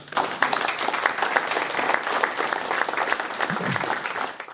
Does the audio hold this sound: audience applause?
yes